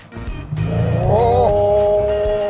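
Mercedes-Benz SL600 V12 revving under hard acceleration, rising quickly from a low rumble into a loud, sustained, climbing engine tone heard close up.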